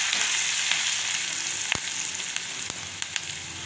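Asafoetida, ginger and curry leaves sizzle in hot oil as a tempering for ven pongal, a loud, continuous hiss with a few sharp crackles and pops spaced through it.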